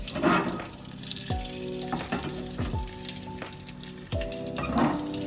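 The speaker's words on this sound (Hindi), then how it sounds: "ये हमारा तड़का तैयार हो गया है। जीरा और रेड चिली पाउडर" A tadka of cumin and red chili powder sizzles in hot oil, a close, loud, steady frying crackle with clinks of a spoon stirring and no voices.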